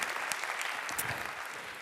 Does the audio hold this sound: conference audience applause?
yes